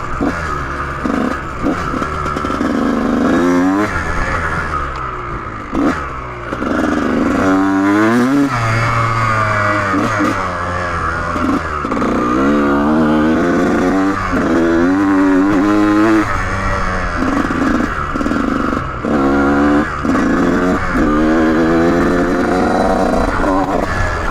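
A Kawasaki KX125 two-stroke dirt bike is ridden around a motocross track, its engine loud and close, repeatedly revving up and dropping back as the rider works through the gears, with no pauses.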